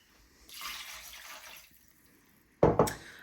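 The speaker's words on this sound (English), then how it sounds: "I'm going to add enough water" Water running from a tap and poured over meat in a slow cooker for home-cooked dog food, a soft hiss of flow followed by a louder, close splashing pour near the end.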